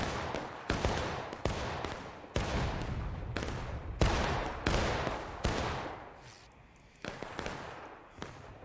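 Gunshots in a 200-player multiplayer video game battle: a sharp report every second or so, each with a short echoing decay, moderately loud, with a quieter gap near the end and no talking.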